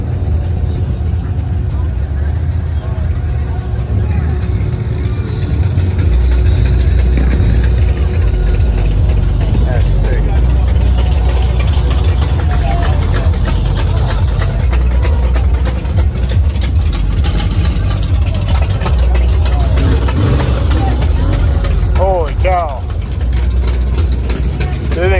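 A car engine idles steadily at an outdoor car show, giving a loud, continuous low rumble close by with crowd noise and people talking over it.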